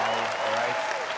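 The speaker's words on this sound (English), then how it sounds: "A round of applause" Brief burst of audience applause at a live product launch event, dense clapping throughout, with a voice briefly audible at the start.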